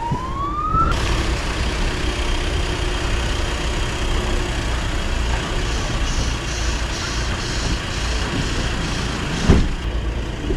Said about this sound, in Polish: Jedzie karetka, jedzie, migają koguty.